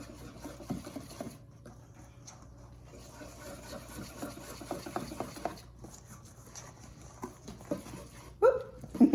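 Flour is stirred into batter by hand, giving a soft rubbing, scraping rhythm of the spoon against the bowl with a couple of louder knocks near the end, no talk.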